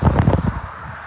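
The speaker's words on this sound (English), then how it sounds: "It's a little windy" Gusty outdoor wind buffeting a microphone, with loud low rumbling for half a second and then a quieter steady rush.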